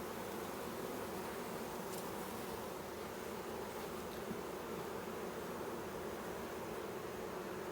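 Honeybees buzz continuously inside an open hive during a weekly inspection, a dense, even drone that stays steady and close throughout with no talking.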